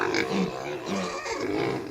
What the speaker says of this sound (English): There's a bunch of pigs down there. All itching for feed.